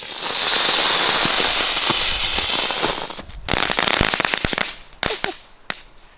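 A two-stage firework, with its second stage going off on the ground, hisses loudly and steadily for about three seconds, then bursts into a rapid scatter of sharp crackles and pops that thin out toward the end.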